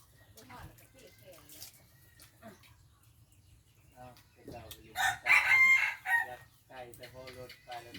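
Rooster crowing loudly in a short burst at a rural Thai home where chickens are kept, with speech before and after the crow.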